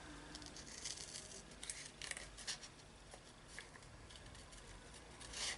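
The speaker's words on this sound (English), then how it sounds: "grab my scissors for this top part up here" Scissors cutting along a line for a paper journaling pocket, a few faint, soft snips and rustles close by in a quiet room.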